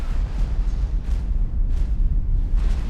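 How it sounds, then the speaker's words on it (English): Big explosion in the space game X4: Foundations, a deep, sustained rumbling roar with several swelling bursts across the clip, loud and with no voice over it. "Now the big explosion."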